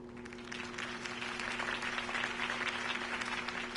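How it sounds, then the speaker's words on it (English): Video game crowd applauding steadily, dense clapping throughout with a faint steady hum underneath, heard from a short distance. "could have heard that applause"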